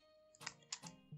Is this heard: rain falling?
no